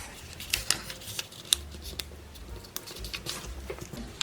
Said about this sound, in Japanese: まずは折り紙を半分に折ります。 折ったらまた半分に折ります。